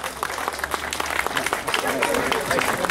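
An audience claps for a football team, a dense spell of close applause under speech.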